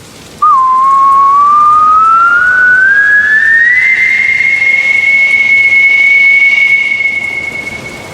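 A long rising whistle, sustained and loud, imitates a storm wind as a character blows ever harder through an enormous nose in a children's story; the steady tone climbs in pitch, holds, then fades at the end.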